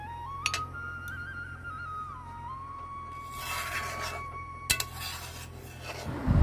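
Meat curry is stirred in a cooking pot, giving soft scraping and a couple of sharp metallic clinks over a steady background hum.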